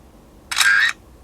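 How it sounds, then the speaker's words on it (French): A Blackview Alife P1 Pro smartphone fires its camera shutter once: a short, crisp synthetic click-and-whir, near and clear over a quiet background. "Ici, on va faire la petite photo, comme toujours, de notre tortue géniale."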